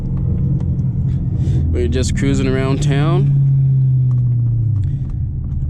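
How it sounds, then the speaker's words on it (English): Deep, steady exhaust rumble from a 500 hp straight-piped, tuned C7 Corvette cruising through town, droning continuously beneath a voice. "This is what the car sounds like."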